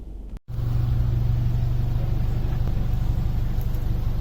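A stationary car engine running on methanol fuel idles with a deep, rough burble, steady and close after a brief cut at the start.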